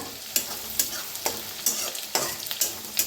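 Potatoes fry in a pan for a potato and fenugreek dish, with a constant sizzle broken by about seven quick, evenly spaced scraping stir strokes, heard close and alone.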